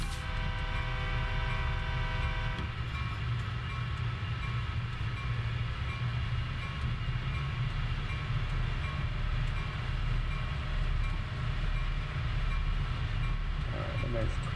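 An MP15DC diesel switcher locomotive in Train Sim World 2 rumbles steadily at low pitch, with a constant engine drone and tonal whine that shifts slightly partway through, continuous and fairly quiet.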